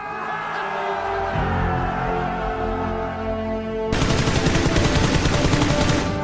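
Gunfire in the PUBG video game: a stretch of mixed shots and noise gives way to a loud, rapid automatic burst that rattles on steadily until it cuts off abruptly.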